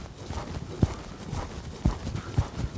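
Horse hoofbeats at a lope during a training session, a few soft, uneven thuds spaced across a quiet background.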